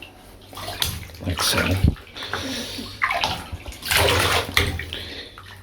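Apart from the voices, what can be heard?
doll head dunked in water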